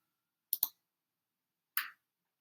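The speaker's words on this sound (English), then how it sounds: "we're going to click Save" A mouse button clicks twice in quick succession while saving in accounting software, then clicks once more about a second later. The clicks are close, crisp and faint in an otherwise quiet room.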